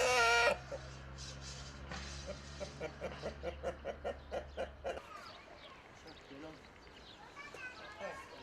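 A rooster clucks in a quick rhythmic series of short calls, close by, followed by quieter background sounds and faint chirps.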